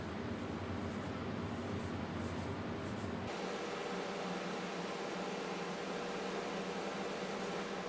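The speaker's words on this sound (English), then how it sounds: "the extraction fan noise," Steady broadband whoosh of an extraction fan running continuously in an airbrush studio during urethane and candy paint work, a constant airy roar that shifts to a slightly thinner tone partway through, with no voices.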